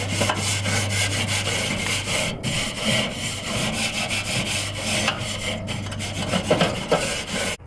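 A brush scrubs a Weber grill grate in close, loud rasping strokes, a steady back-and-forth scraping rhythm with brief pauses, no talking.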